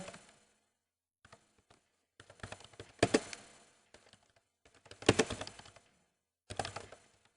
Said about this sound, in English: again typing in the number